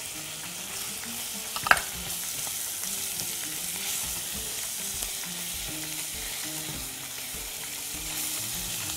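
Chicken hearts and liver sizzle with onion in a hot pan, a steady close frying crackle with one sharp pop and faint stirring scrapes throughout.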